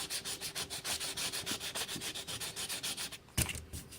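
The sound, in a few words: sanding car body work with 180 grit sandpaper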